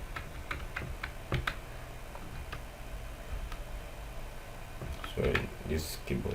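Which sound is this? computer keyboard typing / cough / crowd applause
computer keyboard typing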